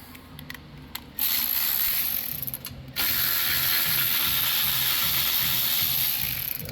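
A 10 mm socket ratchet loosens bolts on a Kohler engine's dual-barrel carburetor, giving close, rapid pawl clicking in bursts, then long continuous ratcheting runs, with no talk.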